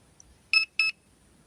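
Two short electronic beeps in quick succession from a drone controller signalling return-to-home, high-pitched and clear against near silence.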